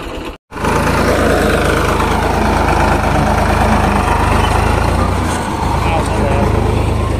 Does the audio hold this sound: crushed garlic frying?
no